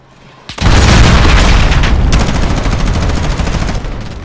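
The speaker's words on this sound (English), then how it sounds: "Allied cruise missile away." A cruise missile strike in Call of Duty: Modern Warfare slams in after a brief quiet, a loud, heavy boom that rolls into a long, dense rumble of crackling debris and distant gunfire.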